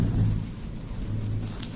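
Rain falls as a steady hiss in the background, with a low hum throughout. It is continuous and moderately loud, with no speech.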